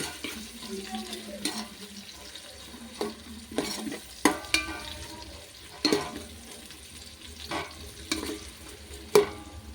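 Onions are fried in a pan and stirred, with soft sizzling under repeated scraping and clinking strokes of a utensil at irregular intervals, fairly quiet and close.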